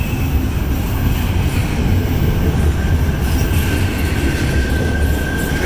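Norfolk Southern freight train 222 led by SD70ACe locomotive 1088, with a GE AC44C6M trailing, rolls past as a steady, close, loud rumble with a faint wheel squeal above it throughout.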